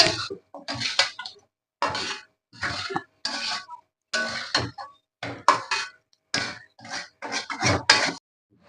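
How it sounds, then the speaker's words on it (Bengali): Meat being sautéed for biryani, heard as a series of separate clattering scrapes and knocks of a utensil against a pan in uneven bursts separated by silence, close by. "মাংসটা কষিয়ে নিচ্ছি"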